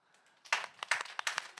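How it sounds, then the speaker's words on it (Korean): Applause at a church Bible quiz, a short burst of several quick hand claps from a small group, fairly close and alone. "박수."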